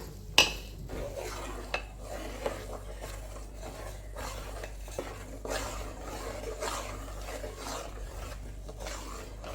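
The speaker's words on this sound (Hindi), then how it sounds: "शक्कर विझन टाणे धीरे धीरे से इनके मिक्स कर जा" Powdered sugar being slowly stirred into a mixture in a pan over a low flame for Memoni aatho, with a soft continuous scraping and rubbing of a spoon, occasional light clinks against the pan, fairly quiet and close.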